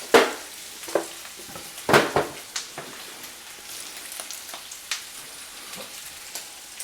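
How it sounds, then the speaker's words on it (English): Bacon frying and rendering its fat in a pan, with sparse sizzling crackles and scattered pops over a low hiss, with no talking. "So bacon is basically cooked right now. But we're going to render it down."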